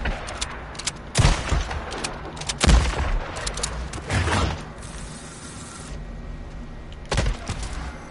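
Shotgun fire in the video game Days Gone, several loud, booming blasts spaced a second or more apart, each with a short rumbling tail.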